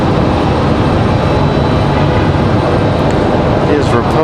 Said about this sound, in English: Brand new E175 about to touch down.